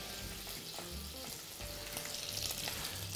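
Chili pepper fries in oil in a pan while garlic prawns are being prepared, making a steady, close hiss of sizzling oil with faint clicks, with no talk.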